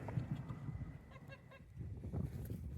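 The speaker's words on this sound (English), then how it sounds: "Got 2 geese." Geese honk a few times at a distance, their calls faint and scattered over low rustling background noise.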